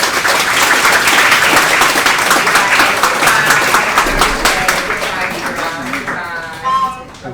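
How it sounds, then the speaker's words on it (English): A talk audience gives a big round of applause after a speaker's closing remarks, a loud sustained clapping that tapers off as a voice begins speaking at the end. "how about we give her a big round of applause"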